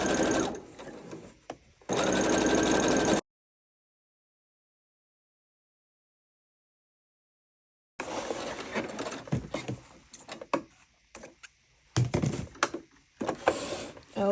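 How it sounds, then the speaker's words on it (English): Sewing machine stitching the seam of a heart-shaped pillow, running in close bursts with a pause of several seconds between them, then stopping and starting in shorter runs. "I'm going to sew as close to my other stitch as possible."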